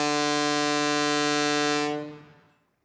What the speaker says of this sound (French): Attention, Roulis, le sifflet n'est pas un jouet.